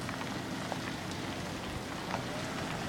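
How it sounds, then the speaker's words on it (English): Light rain falls steadily outdoors on a late-May weekend, a soft, even hiss of drops with a few faint individual patters and no voices. "Let's see if it's still raining, guys"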